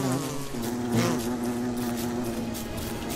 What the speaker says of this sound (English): Where did that bee come from?